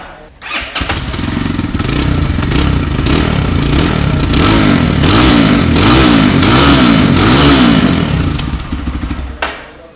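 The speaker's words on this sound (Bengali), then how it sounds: "এটা হচ্ছে বাইকটির exhaust pipe, dual barrel exhaust." FKM Street Fighter 165R, a 165cc fuel-injected motorcycle, starts up and idles through its dual-barrel exhaust, a loud close rumbling throb with a few rising revs before cutting off at the end.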